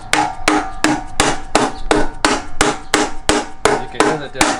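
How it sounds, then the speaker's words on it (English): A seal installer tool is hammered against the front cover seal on an LS2 engine. Sharp, evenly spaced taps come about three times a second, loud and close, with no talking. "We have the seal here on the front cover, and we do have a tool."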